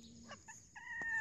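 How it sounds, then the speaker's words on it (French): Mahogany large-breed Orpington hens cluck and crow in a coop, a few short close calls rising into a drawn-out crowing note. "Ma poule Orpington, acajou, grande race."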